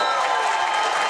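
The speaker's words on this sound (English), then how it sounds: "This crowd is absolutely alive" Spectators at a women's volleyball match in the Armory cheer and clap after a reverse-sweep comeback, a sustained, loud crowd roar with no break.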